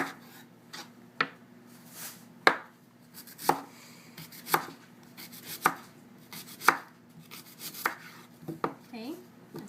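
A knife chops sweet potato on a cutting board while preparing Cuban chicken fricassee. The blows come as a steady series of sharp, close thuds, with no talking.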